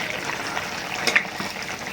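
Pumpkin flower fritters frying in hot oil give off a soft, steady sizzle and bubbling, with a few brief crackles and spits up close.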